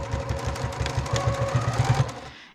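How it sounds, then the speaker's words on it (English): A sewing machine stitches binding down on a vinyl bag, giving a fast, even mechanical chugging rhythm that runs steadily and up close, then stops abruptly at the end. "I'm going to sew this down"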